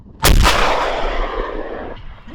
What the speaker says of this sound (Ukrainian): Готов! Постріл! Постріл!